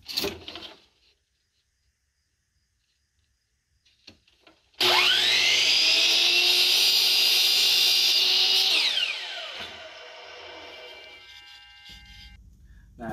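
Power saw cutting cheap furring strips into 14-inch pieces: after near silence, a loud whining motor spins up, runs through a cut for about four seconds, then winds down with rattling afterwards.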